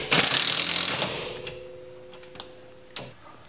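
A 19 mm socket wrench ratchets on car coilovers, a close, loud burst of quick clicking that fades into a few sparse separate ticks, with no talking.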